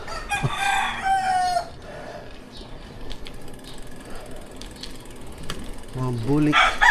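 A rooster crows loudly nearby, with people talking and outdoor background noise in between.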